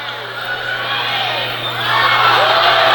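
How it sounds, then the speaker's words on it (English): A home crowd at a college volleyball match between the UCCS Mountain Lions and Regis erupts in cheers and whoops, the roar swelling louder in the final second. "That's a big point for the Mountain Lions, and the crowd goes wild"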